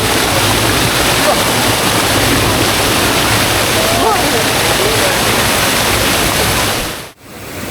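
Krok I Dok waterfall in Thailand roars in a loud, continuous wash of falling water heard up close, a few faint bird calls above it before it cuts off abruptly at the end.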